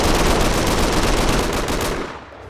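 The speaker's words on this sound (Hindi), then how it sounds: "गोलियां चल रही हैं" Rapid automatic gunfire rattles in a loud continuous burst, then cuts off and fades away.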